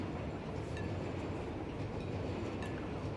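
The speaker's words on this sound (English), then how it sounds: "we're on a bigger train" A freight train rolls through a station in the video game Satisfactory, its steady loud rumble carrying faint metallic clinks from the wagons; no voices.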